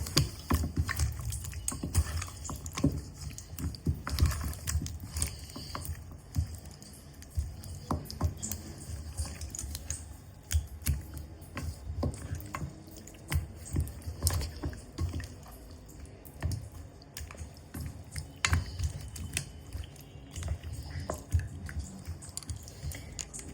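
Country chicken is squished and mixed by hand with salt for biryani: soft, irregular wet squelching and slapping, close and fairly quiet, continuing throughout with no talk.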